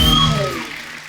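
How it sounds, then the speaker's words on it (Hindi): A studio audience on the Kapil Sharma Show claps loudly at first, then the applause fades away over about a second beneath a descending musical sting. "जोरदार तालियां।"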